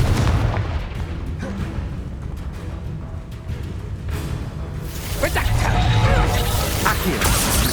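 Repeated Confringo fire-spell blasts in Hogwarts Legacy, loud booming impacts with crashing debris and whooshes, a denser burst toward the end, no talking.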